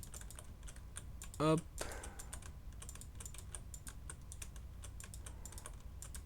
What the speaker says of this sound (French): J'espère que vous entendez pas trop le bruit du clavier, pas trop le bruit de la souris